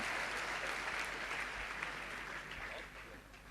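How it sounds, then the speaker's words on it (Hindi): Audience applause for a poem recited at a Maheshwari community event in Ichalkaranji, steady dense clapping from a crowd that holds loud and then eases slightly toward the end. "उस कविता के नाम मेरा आग्रह है कि एक बार और तालियां आप बजाएं"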